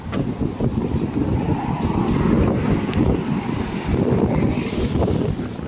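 Strong, steady wind roars and buffets the microphone without a break on a street near a Burger King in Kuwait at night, a loud rumbling rush with no voices.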